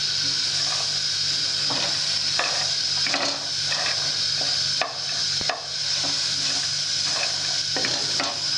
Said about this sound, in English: just in the pan, non-stick pan, you roast it, stir it with a spoon